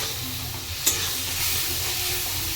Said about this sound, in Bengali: এটা একটু ভালো করে ভাজবো